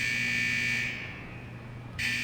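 A steady electronic alarm buzzes from a malfunctioning fusion press unit in World of Warcraft, holding a continuous tone, then dropping in level briefly before returning loudly.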